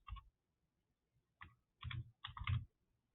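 A computer keyboard typed on in a few short bursts of clicking keystrokes with silent gaps between them, close and fairly quiet, nothing else audible.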